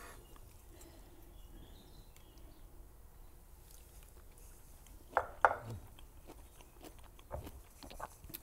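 Faint crunchy bites of a Popeye salad of spinach with sesame seeds, white miso and teriyaki: two sharp crisp crunches close together, then a few softer chewing sounds in a quiet room.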